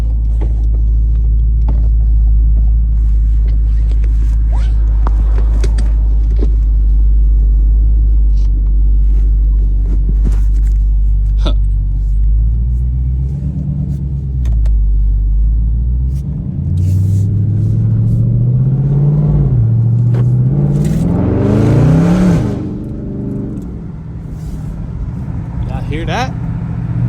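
A 2022 Dodge Charger Scatpack Widebody with its mid muffler deleted idles with a deep, loud rumble, then revs upward in a rising roar before settling back, with someone talking over parts of it.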